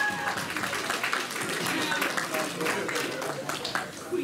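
An audience at a comic con cosplay contest applauds a cosplayer: a steady wash of crowd clapping that lasts several seconds, with voices talking over it.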